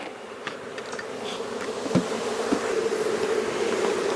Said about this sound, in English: When you see all these bees cluster like this on here, they really feeding that larva.